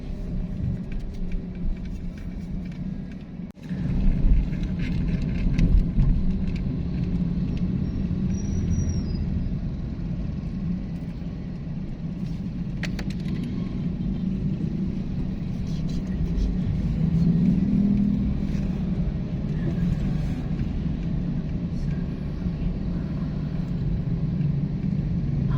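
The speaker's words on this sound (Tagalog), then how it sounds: "medyo traffic dito guys sa may Marquee Mall" Road traffic near Marquee Mall in Angeles City, Pampanga, a steady low rumble of passing cars and buses heard from inside a vehicle, with a brief brake hiss and people talking quietly over it.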